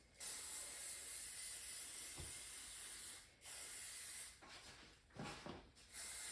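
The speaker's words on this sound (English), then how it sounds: "I like to spray before I tie my hair up, so I'm just gonna do this." Hairspray from an aerosol can hisses onto hair before a ponytail is tied, in long continuous bursts with brief pauses between them. The spray is close and steady, with no voices.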